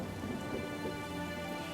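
Steady rain with a low thunderstorm rumble fills a short stretch, a dense, even wash of falling water with no voices.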